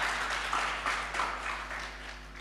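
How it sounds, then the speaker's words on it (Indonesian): Church congregation clapping in a sanctuary during a sermon, a broad wash of hand claps that swells and fades in soft waves, moderately distant with a low steady hum underneath. "Berikan tepuk tangan yang meriah bagi Tuhan."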